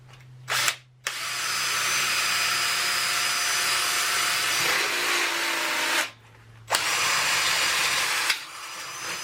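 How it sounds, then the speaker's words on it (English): A power drill bores a hole through a steel piece welded onto a pedestal stand for an Axminster AP1854BV saw, whining loudly and steadily in two long runs separated by a brief pause, with short motor blips at start and end. "I've just got to drill the extra hole in this piece that I've welded on"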